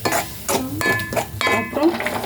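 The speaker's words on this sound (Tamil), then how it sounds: "கிளறி விடுங்க." Gooseberry pickle mixture stirred in hot oil, with several close scraping and clinking strokes of a spoon against the pan over a soft sizzle.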